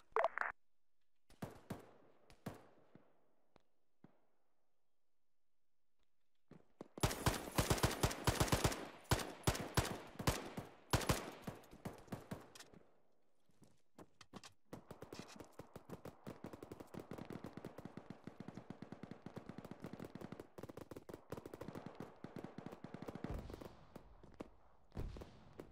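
Arma 3 combat gunfire: short automatic bursts and single shots, loud in a dense cluster, then a long stretch of steady rattling fire that sounds a little more distant, with quiet gaps between, and no talk.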